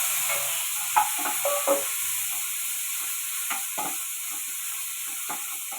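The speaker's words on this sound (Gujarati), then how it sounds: "હવે આપણે 1 ટમેટું અને 1 મરચું લીધું છે એ નાખી દઈશું। આને પણ આપણે તળવા દઈશું" Tomato and green chili frying with softened onions in a pan for vagharel bhat, a steady close sizzle with a few soft stirring scrapes and clinks, no talking.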